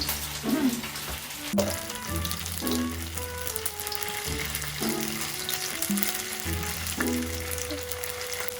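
Korean rice cake skewers (tteokkochi) fry in hot oil with a continuous sizzle, accompanied by intermittent clinks and stirring sounds, all close by with no talking.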